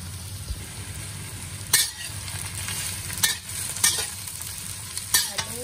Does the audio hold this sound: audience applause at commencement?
no